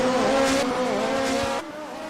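An Alfa Romeo 155 in a PC racing game locks its brakes, its tyres letting out a loud, wavering squeal over the engine drone for about a second and a half before it cuts off, leaving the engine running on.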